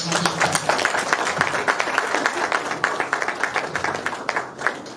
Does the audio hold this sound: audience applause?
yes